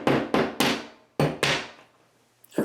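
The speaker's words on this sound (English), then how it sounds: "we're just going to tap it in with the hammer until it's flush with the drywall itself" A hammer taps a drywall anchor into a wall with five sharp, light knocks in an uneven rhythm, each ringing briefly, then a pause and a faint final touch.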